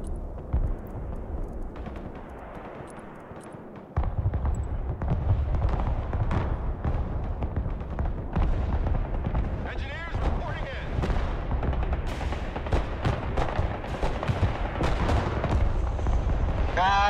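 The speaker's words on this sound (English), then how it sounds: "Yep, I'm gonna fire artillery." Paladin artillery fire in the Broken Arrow strategy game: a dense, sustained battle din of booms and crackling shots that swells after a quieter opening, with a voice talking over parts of it.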